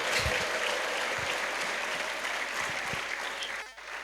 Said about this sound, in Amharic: እልልታ ጭብጨባ አምጡ።